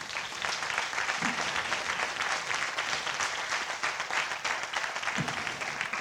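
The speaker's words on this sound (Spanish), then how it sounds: "Un aplauso para los tres." A large crowd applauds steadily and loudly at a closing ceremony, a continuous dense clapping that lasts throughout with no pauses.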